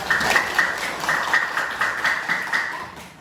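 Children in a classroom clap their hands together in a patterned rhythm, short bursts of claps repeating steadily at close range with no talking over them.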